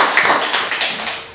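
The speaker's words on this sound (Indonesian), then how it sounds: "Tepuk tangan buat Kristus." A church audience claps briefly during a sermon on end-times teaching, a short burst of scattered handclaps that tails off within about a second.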